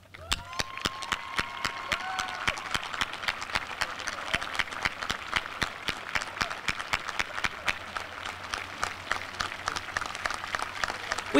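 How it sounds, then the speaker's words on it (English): Steady applause from a large audience fills a high school graduation ceremony, dense overlapping clapping sustained throughout at a fairly even level, with a faint tone or hum in the background. "Let's give them a round of applause."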